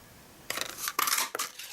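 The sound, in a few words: cutting out a paper label with a punch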